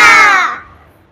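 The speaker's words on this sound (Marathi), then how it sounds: "कावळा." A single loud crow caw, harsh and close, fades out within about a second.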